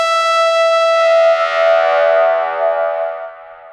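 A bright, buzzy synthesizer tone holding a sustained note, heavily processed with distortion and echo, smearing and fading away over a few seconds.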